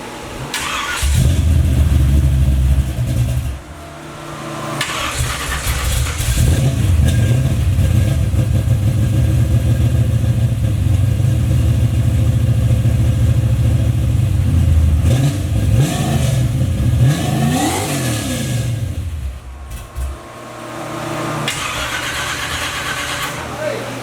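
A Chevy Box Chevrolet car on 26 inch rims starts up and revs, its engine droning loudly with rising and falling pitch sweeps; voices talk over it at times.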